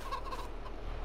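Chickens in Farming Simulator 22 cluck faintly in a short, quiet burst over a steady low game-world hum.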